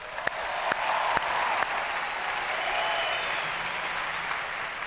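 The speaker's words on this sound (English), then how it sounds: "How about a round of applause for Phil Jackson?" A large awards-show audience applauding for Phil Jackson at the 2011 ESPYs, a dense, sustained roar of clapping from a big hall, steady and loud from start to finish with a few sharp near claps early on.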